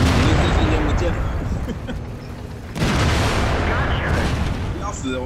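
A tank explodes in the World of Tanks video game on the Komarin map: a sudden loud boom cuts into dense, continuous battle noise of gunfire and engine rumble, which carries on steadily afterward.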